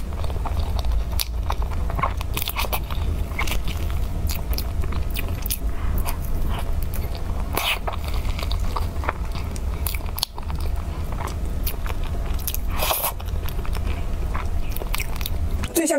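Someone bites into and chews a layered cake with salted egg yolk and coconut milk jelly, ice cream alongside, producing loud, close, repeated crunchy bites and moist chewing sounds in a continuous rhythm.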